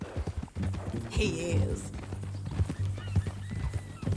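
Horse hooves in Red Dead Redemption 2 clip-clop in a steady rhythmic gait close by, with a brief whinny early on and someone speaking over the hoofbeats.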